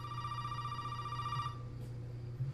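A telephone in the video game Resident Evil 7 rings with a bright electronic trill for about a second and a half, then cuts off, leaving a low steady hum.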